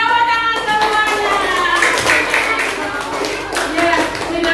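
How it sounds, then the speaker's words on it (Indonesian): A classroom of elementary school children clapping their hands together in a quick, busy patter, with voices and pitched chatter mixed in throughout. "Bila tepuk tangan semuanya."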